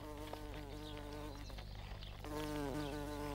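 A bee buzzes close by in a steady, droning hum that dips briefly in the middle, then resumes slightly louder.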